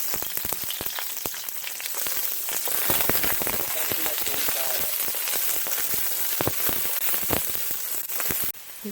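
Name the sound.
onions frying in a hot wok with avocado oil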